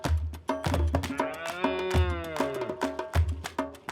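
Herero cattle moo loudly and close by at an evening kraal enclosure in Namibia, several overlapping drawn-out lows with steady background noise and no talk.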